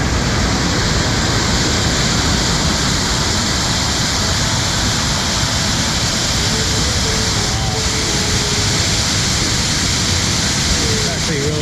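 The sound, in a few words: waterfall, lower falls near Vancouver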